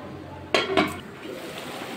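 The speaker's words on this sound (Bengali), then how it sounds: "এবার ঢাকা দিয়ে দেবো" A lid is set onto a pot of ash gourd ghonto cooking in its own released water, giving two close metallic clinks about a quarter second apart, fairly near, over a quiet kitchen background.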